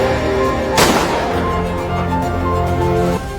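A single gunshot sound effect fired from a stolen police officer's pistol in a living room, a sharp loud crack that decays quickly under a sustained dramatic music bed.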